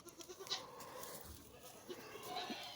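Goats bleat outdoors at a livestock sale, several faint overlapping calls at a distance over low background noise.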